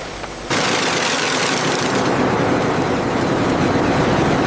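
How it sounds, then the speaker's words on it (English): Industrial hydraulic splitting machines with steel wedges split cut bamboo sections in a factory, making a sudden loud, dense mechanical roar with rapid crackling and clattering that holds steady after starting abruptly. "The cut bamboo sections enter hydraulic splitting machines equipped with powerful steel wedges."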